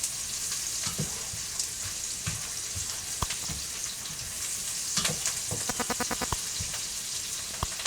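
A pork chop browns in hot oil with salt, giving a steady close sizzle with scattered pops and crackles, plus a brief run of quick rhythmic clicks near the end.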